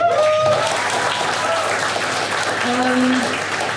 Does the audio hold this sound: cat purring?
no